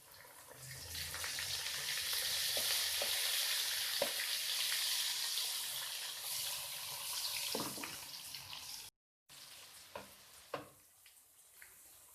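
Garlic and browned onion fry in a pan for vegetable pulao, giving a steady, faint hiss of sizzling oil with a few soft clinks of stirring, then a short drop-out and quieter sizzle.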